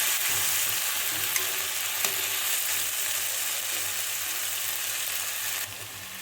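Kochur loti (taro stolons) fry in a pan with a loud, constant sizzle while a utensil stirs and chops through them in occasional scraping strokes.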